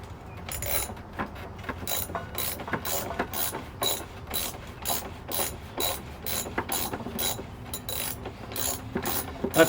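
Repeated ratcheting clicks and metallic clunks as a Kawasaki Concours front axle is worked and slid into the wheel hub, close and irregular bursts of rattling contact.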